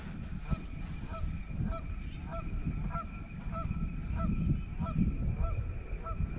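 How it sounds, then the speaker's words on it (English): A goose honks repeatedly out of sight near flooded timber by a reservoir, regular calls spaced about half a second apart and fairly distant, over a steady low outdoor rumble. "Goose out there somewhere,"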